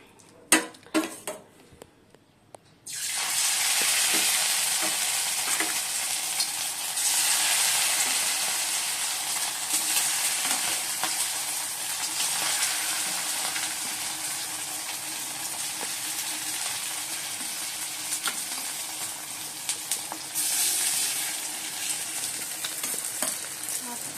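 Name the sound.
marinated chicken frying in a pan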